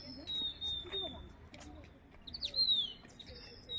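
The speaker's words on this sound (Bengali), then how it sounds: "পাখি ডাকছে" Birds call and chirp in the Shimla hills at evening, several high thin whistles and tweets scattered across the moment, fairly near, over a low background hum with faint voices.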